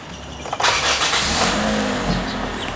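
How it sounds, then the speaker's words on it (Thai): A 2017 Toyota Altis 1.6 G engine revs up sharply and holds a loud, throaty roar close by, easing slightly toward the end. "เดี๋ยวเรามาฟังเสียงเครื่องยนต์กันดีกว่า"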